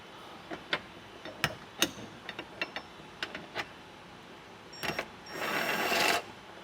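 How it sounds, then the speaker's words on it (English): Bolts come out of the tire carrier hinges on a 2024 Jeep Wrangler, with a string of sharp metallic ratchet-like clicks at uneven spacing, then a brief louder burst of tool noise near the end. "Now we're going to remove our bolts right here from our hinges."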